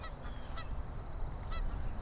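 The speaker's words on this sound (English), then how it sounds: "Oh, there go the geese! There's a bunch of geese over here." A few honking goose calls at Chicago's Nature Boardwalk in Lincoln Park, slightly distant, with a pair early and another call near the end over a steady outdoor hum.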